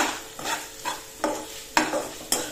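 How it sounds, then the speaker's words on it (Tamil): Capsicum sautéed in a pan with coriander added, being stirred for a chutney: a spatula scrapes and swishes in repeated strokes about every half second over a soft sizzle, close and clear, no voices. "இப்ப நம்ம கொத்தமல்லி போட்டுக்கலாம். போட்டுட்டு நல்லா கலந்துக்கோங்க."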